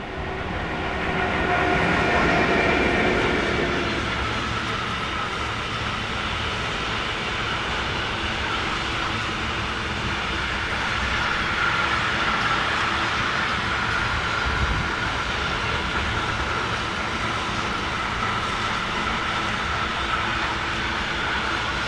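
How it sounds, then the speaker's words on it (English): Pair of Class 152 electric locomotives hauling a long freight train on a German main line, a steady loud rolling rumble and rail noise sustained throughout with a slight swell early on. "Another Class 152, this time number 101, paired up with number 121, hauling train KT 41922 from Enns to Bremerhaven."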